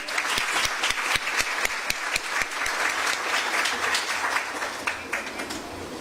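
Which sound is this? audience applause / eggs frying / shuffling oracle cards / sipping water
audience applause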